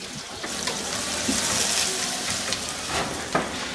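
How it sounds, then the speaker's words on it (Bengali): Chopped local onions and garlic sizzle in two tablespoons of hot oil, a steady close frying hiss with a few soft stirring clicks and no talk over it. "2 টেবিল চামচ তেল গরম করে এর মধ্যে 4টা দেশি পেঁয়াজ, বড় সাইজের পেঁয়াজ কুচি করে নিছি, ওগুলো দিয়ে একটু ভেজে নিব"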